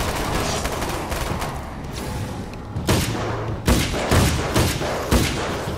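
Gunfire in the Alan Wake's American Nightmare video game, a dense run of loud shots and booms in a rapid, uneven burst, several heavy cracks standing out near the end.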